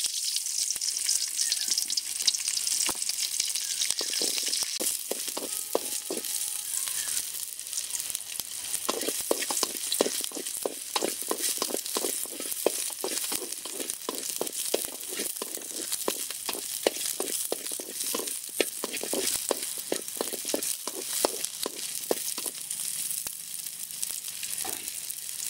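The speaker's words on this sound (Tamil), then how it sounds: "எண்ணெய் நல்லா சூடாயிட்டு வெட்டி வச்சிருக்க வெங்காயத்தை போட்டுக்கலாம்." Chopped onions fry in hot oil in a pan, a steady close sizzle with frequent crackling pops and occasional stirring scrapes for the full length, no voices.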